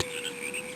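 A frog croaks in The Berenstain Bears In The Dark video game, a short steady, buzzy call lasting under a second with no talking over it.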